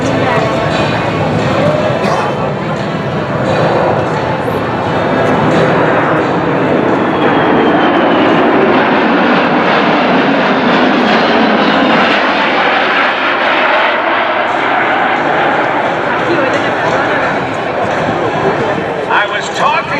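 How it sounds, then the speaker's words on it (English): A C-17 Globemaster III military transport jet makes a fast low pass at over 350 mph during the Duluth Airshow 2019. Its loud, sustained roar swells and fades across the whole stretch, with voices faintly beneath it. "the C-17 Globemaster 3"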